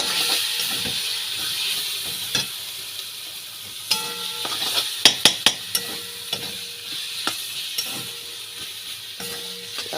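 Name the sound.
stirring shahi garam masala into cabbage curry in a pan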